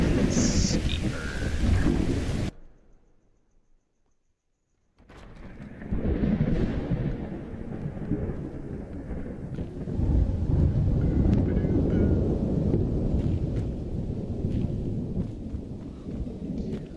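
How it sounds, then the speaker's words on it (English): Loud rain and rolling thunder from a storm in The Elder Scrolls V: Skyrim Anniversary Edition fill the scene, broken by a brief near-silent gap before the downpour returns and holds steady and heavy. "It's because the storms are loud in the game."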